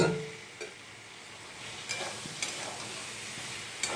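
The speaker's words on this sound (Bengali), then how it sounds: "এবার এইখানে আরেকটু ভাজবো, তাহলে একদম পুরো প্রপার মশলাটা ভাজা হয়ে যাবে ভালো করে।" Potatoes, soybean chunks and pointed gourd fry with spices in a pan, giving a quiet, steady sizzle broken by a few sharp clicks and scrapes of stirring.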